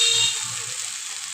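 Spice paste with a little water is fried and stirred in a pan for an egg and potato curry, making a soft continuous hiss that eases slightly, with no voices.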